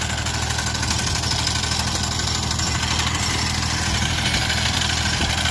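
A mini tractor engine runs steadily at a low idle-like throb, close and continuous with a faint mechanical knock and vibration, with no talk over it.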